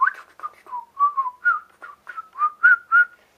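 A person whistles a quick tune alone, with short bright notes in a fast, lilting rhythm and brief gaps between phrases, clear and close.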